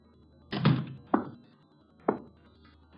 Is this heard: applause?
no